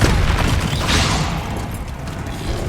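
Bombarda spell explosion in the Hogwarts Legacy video game: a loud, dense booming blast with a rumbling low end and hissing debris, sustained for a few seconds, no talk.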